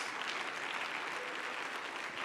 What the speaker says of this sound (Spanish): Dale un aplauso al Rey de Reyes.